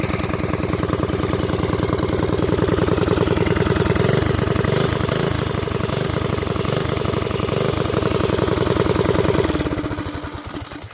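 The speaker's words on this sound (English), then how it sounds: "Peppy little motor." A Predator 212 engine on a mini bike runs close and loud with a steady, rapid thumping idle, then cuts off near the end and fades away.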